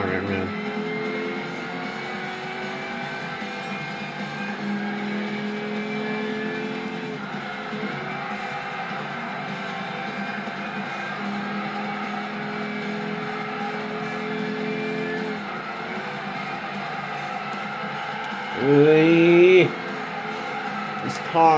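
Muscle car engine in Gran Turismo 6, a steady sustained drone with shifting pitch across a race lap, a brief louder rev burst near the end, and a player talking over it.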